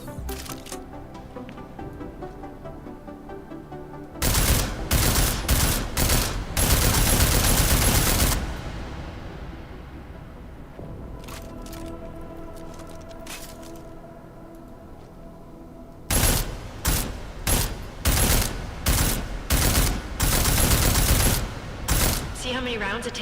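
Bursts of rapid gunfire from Deus Ex: Mankind Divided, loud, close rattling volleys in two clusters with a quieter stretch of game ambience between them.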